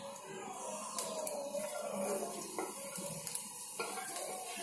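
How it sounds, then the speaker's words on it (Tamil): Perandai (adamant creeper) sautéing in oil with pan stirring, soft steady sizzle and scraping clinks of a utensil against the pot, close and continuous with no talk. "நீங்கள் பரண்டை எவ்வளவு இருந்தோ அதுக்கு தகுந்த அளவு எண்ணெய் ஊற்றி வதக்குங்க"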